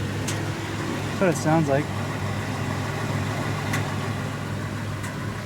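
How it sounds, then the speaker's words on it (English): A 1994 Ford Explorer idles in a driveway while its exhaust warms up after a fuel pump replacement, giving a steady low engine hum throughout. Someone speaks briefly over it. "I wonder if it's the exhaust just finally warming up."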